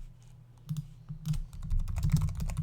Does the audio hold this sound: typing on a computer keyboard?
yes